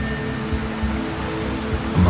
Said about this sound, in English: In never-ending rain.